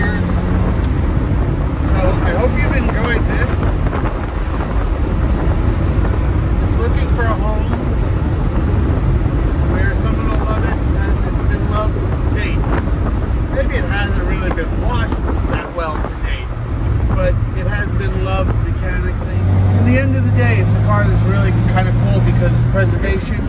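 A 1957 Austin Healey 100-6 BN2 roadster cruising in overdrive, a steady low engine drone and road rumble mixed with strong wind buffeting from inside the open cockpit, while a voice talks over it.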